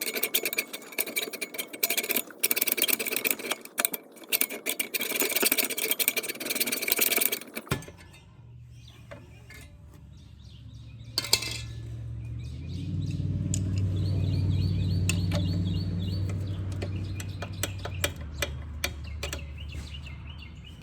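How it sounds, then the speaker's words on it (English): A hacksaw cuts metal on a Yamaha TW200 motorcycle with rapid, rasping back-and-forth strokes for about seven seconds, then stops, leaving a quieter stretch of low hum and faint clinks. "So I'm gonna grab my hacksaw, see how hard it is to get in here with the hacksaw."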